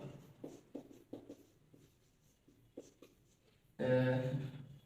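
A marker squeaks and taps across a board during a chemistry lesson in a quiet room, a series of short, separate strokes, followed by a sudden, louder sustained burst of sound at the end.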